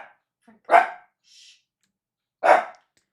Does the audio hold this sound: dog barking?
yes